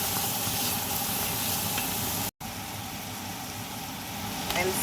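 Caraway seeds sizzle and fry in a pot while being stirred, a steady continuous hiss with a brief dropout midway.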